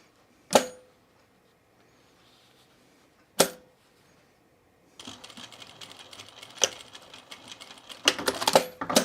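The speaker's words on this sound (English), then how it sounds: "Let me just sew it a little" A sewing machine runs stitches through fabric being attached to underwear elastic, starting about midway as a close, steady mechanical whir with rapid needle clatter, after two sharp isolated clicks.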